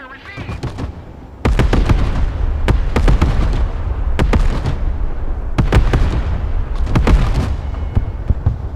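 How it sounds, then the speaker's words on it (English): Mortar rounds firing and shells exploding in the military strategy game Broken Arrow: a series of loud, sharp booms every second or so, some clustered in quick pairs, over a steady rumbling battle bed. "Mortar, ready to fire."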